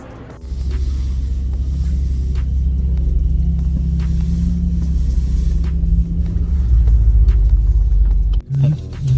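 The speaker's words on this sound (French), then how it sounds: "Une voiture nous a rejoint dans le convoi. Ferrari 812 super fast." Ferrari 812 Superfast supercar rolling in a convoy, giving a steady deep engine rumble that holds throughout, close and loud, swelling slightly near the end before a brief dip.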